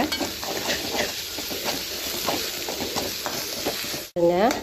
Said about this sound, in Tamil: முட்டையை சேர்த்து நம்ம நல்லா மிக்ஸ் பண்ணி விட்டாச்சு